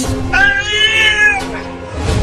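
A cartoon cat gives one loud, drawn-out meow lasting about a second, close and clear over faint background noise, with no talk.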